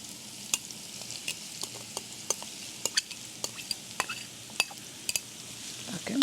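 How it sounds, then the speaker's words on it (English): Quinoa browning with onions in a pan, a low continuous sizzle punctuated by repeated sharp clinks and scrapes of a utensil stirring against the pan, close and fairly quiet. "I'm going to use the quinoa and brown the quinoa a little bit"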